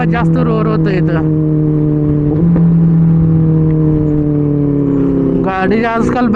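A Benelli 600i motorcycle engine hums with a steady droning tone that echoes inside a tunnel, loud and close, swelling slightly in the middle. Voices briefly cut in at the start and end.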